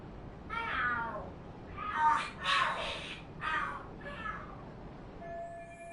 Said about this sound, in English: Are there cats fighting?